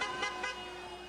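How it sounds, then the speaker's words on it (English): Passing cars honking their horns on a city street, a steady tonal horn blaring with two short bursts layered on top, moderately loud and alone. "Several cars seemed to honk approval."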